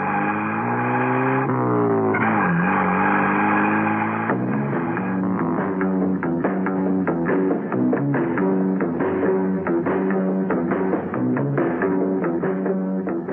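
A car engine revs and accelerates loudly and steadily, the pitch climbing then settling into a sustained roar with music-like tonal layers, alone without talk.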